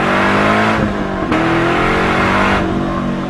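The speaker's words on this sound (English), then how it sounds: "You're hearing an increase in sound pressure now with Borla's S-type exhaust." A car engine breathes through a Borla S-type exhaust, giving a loud, steady drone with harmonic tones that rise and dip through a couple of throttle changes, close to the microphone with no talking.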